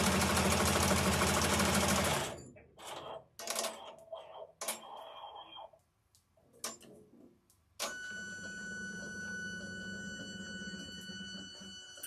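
Embroidery machine stitching a unicorn zipper bag design in the hoop, a close, rapid mechanical stitching whir that stops, gives way to irregular clicks and pauses, then resumes steadily.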